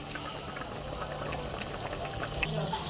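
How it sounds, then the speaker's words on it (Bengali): Rui posto, a rohu fish curry with poppy seed gravy, simmers in a pan, giving a steady close bubbling with faint pops throughout, alone without talk. "তো ঝোলটা ফুটে উঠলে আমি নামিয়ে নেব।"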